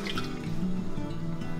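Water pours into a glass mason jar holding broccoli seeds, a steady close trickle with small dripping and gurgling splashes throughout, no talking.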